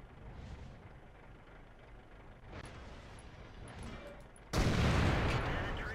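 A tank cannon shot in World of Tanks lands on an enemy VK tank, a sudden loud broadband blast arriving late after quieter battle ambience and faint distant pops, then decaying slowly.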